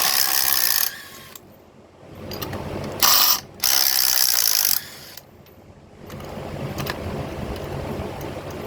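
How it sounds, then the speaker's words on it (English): A ratchet wrench clicks in quick bursts while loosening spark plugs on a Ford Transit engine with a misfire, the close, sharp ratcheting alternating with quieter pauses and handling noise. "So let's pull those spark plugs out, see what they look like."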